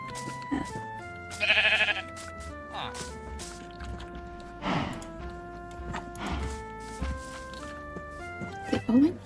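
Sheep in the Minecraft Bedrock Edition survival game bleat a few times, one short, wavering bleat standing out clearly against steady tonal game sounds.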